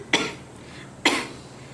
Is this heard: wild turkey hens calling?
no